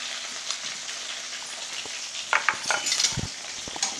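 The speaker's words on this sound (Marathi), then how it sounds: "चांगलं परतून घ्यायचं आहे।" Green chillies, curry leaves and peanuts sautéing in a pan, a soft steady sizzle with intermittent scraping and stirring clatter from a utensil, close by, no talk.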